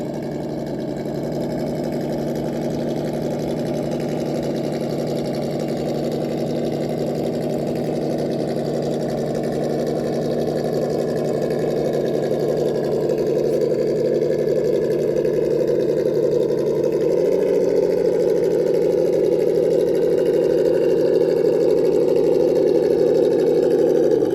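A Traxxas TRX4 RC truck motor driven by a Hobbywing ESC runs as a steady mid-pitched whine with a low hum underneath, constant and close, shifting slightly in pitch partway through.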